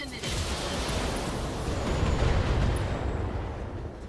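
A continuous roar of mech weapons firing together in the video game BattleTech, a dense booming barrage that swells slightly in the middle with no clear breaks.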